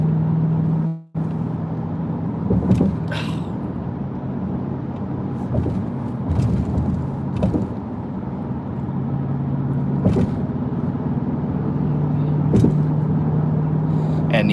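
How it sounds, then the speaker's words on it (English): A Jeep drives through traffic, a steady low engine and road hum from inside the vehicle with occasional louder rumbles and bumps, no one speaking. "So this is traffic at this hour."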